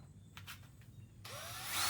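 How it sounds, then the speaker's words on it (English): A power drill bores holes through PVC pipe buried under a tree limb, first short bursts of whirring, then a rising continuous whine that grows louder as the bit bites in, alone without voices. "I grab the drill. I drill holes into those two areas."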